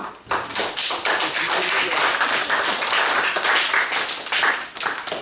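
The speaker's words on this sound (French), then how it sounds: "On peut s'applaudir." A church congregation claps together during a Sunday worship service in Mazamet, a dense, steady burst of hand claps that starts sharply and holds at full strength for several seconds with no voices over it.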